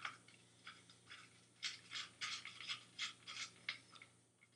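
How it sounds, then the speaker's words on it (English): A new screw is driven into a Hayward pool vacuum being rebuilt, faint rapid ratcheting clicks repeating in a steady series, close and alone with no talking. "we'll just put the new screw in anyway"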